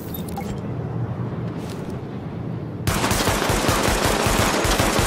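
Pistol fire during a weapon test in the video game The Division, a quiet lead-in giving way to a loud burst of rapid repeated shots that continues to the end.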